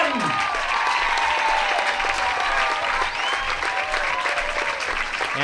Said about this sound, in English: A huge round of applause here for 2 Newport Gulls Hall of Famers.